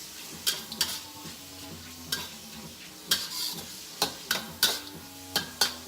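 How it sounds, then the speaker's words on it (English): Beef with peppers and ginger sautéing in a pan, a soft sizzle under regular clicks and scrapes of a utensil stirring, close up, with no talking. "Now, I just like to saute this a little bit until it gets brown."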